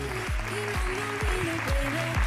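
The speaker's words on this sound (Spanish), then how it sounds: "Un aplauso para ella" Applause from an audience at a Christmas gala in Vejer, a moderate, steady patter of clapping mixed with tonal music playing over it at the same time.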